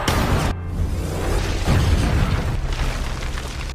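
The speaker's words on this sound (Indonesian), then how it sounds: "bak jerigen minyak yang dibawa oleh Chambers hingga membuatnya meledak." A loud, booming blast of an exploding fuel jerrycan erupts abruptly, followed by a sustained rumbling roar that slowly fades, with no speech.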